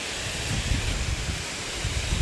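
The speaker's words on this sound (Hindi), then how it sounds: "भाई झरना देखो" Steady broadband rush of falling water at Bhukundhar's Rainbow Waterfall, a continuous even roar without speech, heard from a moderate distance.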